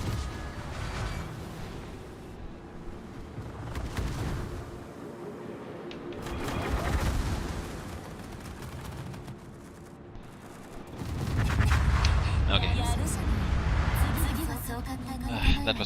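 Naval artillery in World of Warships, with tier 10 German ships firing armour-piercing shells: deep, rumbling cannon booms and heavy impacts rolling over a dense, busy game soundscape, swelling louder toward the end.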